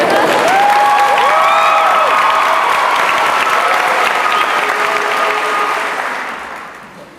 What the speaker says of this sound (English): can we do the applause again, but louder?